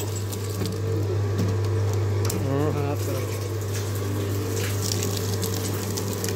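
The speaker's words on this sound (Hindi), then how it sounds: "ये एक एच पी का पंप लगा हुआ है इधर" A 1 HP water pump runs steadily beside a water tank, giving a constant low mechanical hum with splashing water over it, loud and close throughout.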